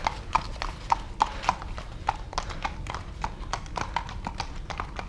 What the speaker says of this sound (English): Look at them pretty horses.